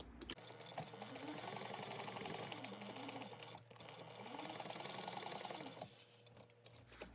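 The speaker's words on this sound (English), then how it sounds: "And then you're going to sew this at a 1/2 inch seam allowance." Sewing machine stitching a backpack seam at a half-inch allowance, running in a steady continuous whir for most of the stretch, with a brief pause midway and a stop near the end.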